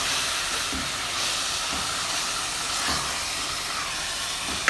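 Minced beef keema roasting with spices in a pan, with a steady broad hiss of sizzling throughout and a faint scrape of stirring now and then, no one talking.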